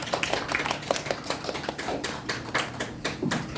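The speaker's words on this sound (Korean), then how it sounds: "우리와 늘 함께 하시는 그 주님께 영광의 박수 올려드릴까요?" Congregation clapping during a Sunday church worship service, a steady run of sharp claps at a brisk, fairly even rhythm, close and moderately loud, with no talk over it.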